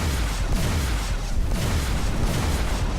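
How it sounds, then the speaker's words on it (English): Heavy, booming plasma cannon shots in the video game X Rebirth fire repeatedly in a steady rhythm, each blast with a descending low whoosh, loud and close. "Let's try out this new plasma cannon."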